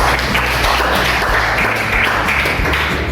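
Classmates in a school classroom applaud a fellow student, a dense, steady patter of many hands clapping close by throughout, with a low rumble underneath and no clear voices.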